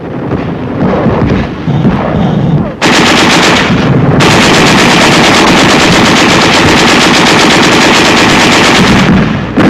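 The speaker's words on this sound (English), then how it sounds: "There is some machine gun fire and occasional shells" Rapid machine gun bursts and heavy shell blasts on a 1945 World War II front during a river crossing and city advance, loud and continuous with dense rattling volleys.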